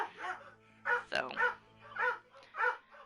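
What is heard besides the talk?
dogs barking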